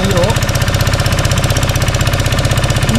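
A motor boat engine chugs on the Sharavathi backwater among mangrove forest, a loud, close, rapid knocking throb that holds an even rhythm throughout.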